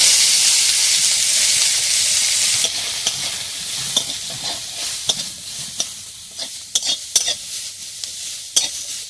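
Cumin, a chili and onion sizzle loudly in hot oil in a pan, a steady hiss broken later by repeated scraping stirs of a spatula, close and continuous.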